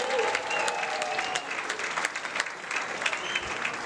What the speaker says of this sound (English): How about a nice round of applause, Mr. Dave Russo, everybody.